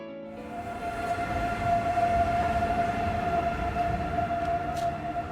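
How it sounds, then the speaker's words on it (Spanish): Passenger and freight trains rumble past steadily in Navarra, Spain, with a sustained tonal whine, a continuous moderately loud passing noise with no speech. "estamos viendo cómo pasan trenes con pasajeros, mercancías"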